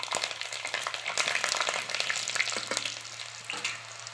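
Mustard seeds, dried chillies and garlic fry in hot oil for village-style sambar, giving a steady dense crackling sizzle with spitting pops, close and alone.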